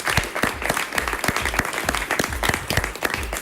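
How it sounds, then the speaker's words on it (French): Studio audience applauding a guest introduced on a French television talk show, dense steady clapping from many hands throughout, close and fairly loud. "Merci de l'applaudir."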